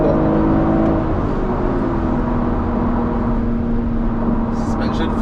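A BMW M340i switched into sport mode accelerates with a loud, steady engine drone and rising whir heard from inside the cabin, while people talk over it.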